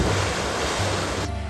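A waterfall at a swimming spot in Italy roars as a steady, close wash of rushing water, and the broad noise cuts off abruptly near the end.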